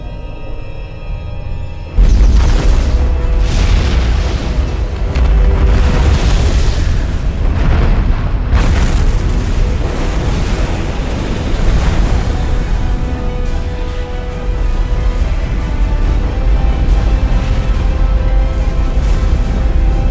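The Shiva is destroyed in the video game Supreme Commander 2: a sudden massive explosion breaks in after a quiet start, followed by a long, loud rumbling roar of blasts and booming debris that keeps going to the end.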